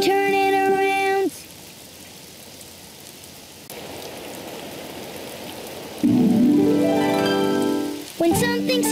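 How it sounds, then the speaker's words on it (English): Steady rain patters throughout in the children's cartoon Daniel Tiger's Neighbourhood, with brief melodic tones breaking in at the start and end and a rising whistle-like sound near the middle. "Oh, it's raining outside."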